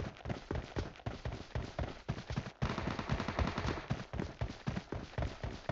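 Rapid bursts of automatic gunfire from the mobile battle royale game PUBG Mobile, sharp repeated cracks in quick volleys, loud and continuous with brief pauses.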